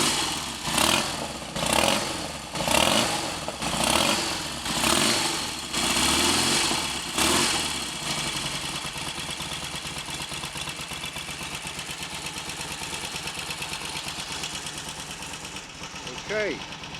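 A Royal Enfield Constellation motorcycle engine cold-starting after a wet-sumping check: several loud rhythmic cranking pulses, then the engine catches and settles into a steady, throbbing idle up close.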